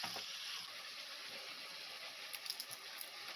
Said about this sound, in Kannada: ಇವಾಗ ಅದು 1/4 ಗಂಟೆ ಚೆನ್ನಾಗಿ ಫ್ರೈ ಆಗಬೇಕು.